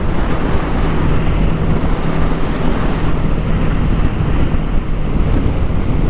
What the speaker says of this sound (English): I'm getting some wind on me because there's really no front wind protection